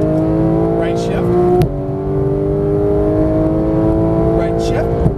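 Porsche 911 GT3 of the 991 generation on a racing track, its engine holding a steady, loud multi-toned drone with a brief dip in pitch around a gear change, under a coaching voice.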